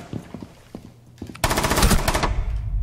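Rapid automatic gunfire in Rainbow Six Siege, a dense loud burst of shots starting partway through after a few scattered lighter impacts and movement sounds, continuing to the end.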